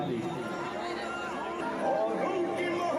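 Dense crowd babble at a Durga Puja temple fair, many overlapping voices chattering close around with steady hubbub throughout.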